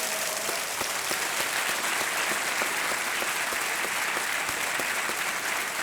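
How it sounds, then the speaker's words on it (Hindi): A studio audience on the KBC television quiz show applauds steadily, a dense, even wash of clapping that holds at full strength throughout with no voices over it. "तालियां बज जाए इनके लिए"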